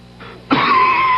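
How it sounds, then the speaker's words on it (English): A single short, harsh cough in a baby's cold, close up, preceded by a faint breath. "My baby's got a nasty cough and a stuffed-up nose, poor baby."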